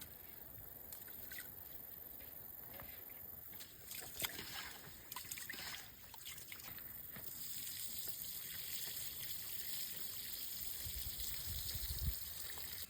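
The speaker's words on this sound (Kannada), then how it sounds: "ಅಕ್ಕಿನ ಕ್ಲೀನಾಗಿ ತೊಳ್ಕೊಳ್ಬೇಕು" Water swishing and trickling as rice is rinsed by hand, with soft sloshing and occasional clicks against the bowl, fairly quiet.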